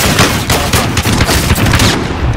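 Rapid automatic gunfire in a video game firefight, loud and dense bursts with near shots rattling continuously.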